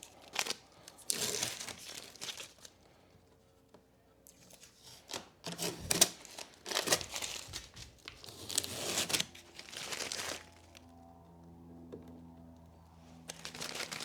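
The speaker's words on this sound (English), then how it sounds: "you're gonna take your tape off" Tape peeled off the cover of a Harley-Davidson touring motorcycle lid during a speaker install, heard as several bursts of close, crackly ripping and crinkling separated by quieter pauses.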